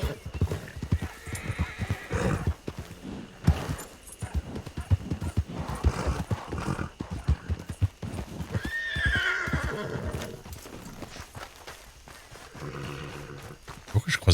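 A horse clip-clops in a busy, uneven rhythm and lets out a whinny partway through, close by, while people talk and shout in French around it.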